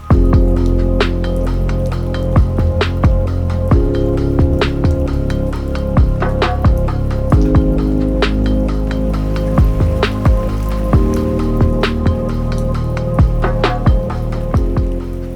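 Steady rain falling in the Canadian wilderness, with drops and drips pattering close by in a continuous wet wash, no voices.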